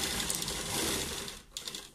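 Short burst of a sewing machine stitching a sleeve, a fast dense mechanical whir that drops briefly near the end and starts again, fairly quiet.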